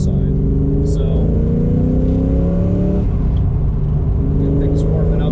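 A 1993 Ford Mustang Foxbody in Calypso color idles and warms up close by, a loud steady engine rumble with rising harmonic tones as revs climb slightly, then settle; a person talks over it briefly.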